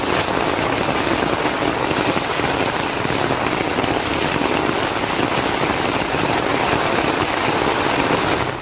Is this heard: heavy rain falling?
yes